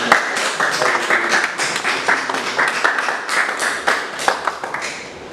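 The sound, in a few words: congregation applauding the worship team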